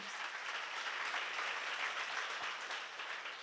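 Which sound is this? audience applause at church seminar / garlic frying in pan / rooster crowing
audience applause at church seminar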